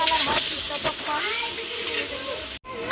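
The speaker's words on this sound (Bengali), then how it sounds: "এক পরিমাণ লবণ দিয়ে দিচ্ছি হলুদ ছাড়াই কিছুক্ষণ ভেজে নেব যতক্ষণ না পর্যন্ত লালচে" Salt frying in hot oil in a pan without turmeric, a busy close sizzle with stirring scrapes and faint overlapping sounds, cut by a brief dropout near the end.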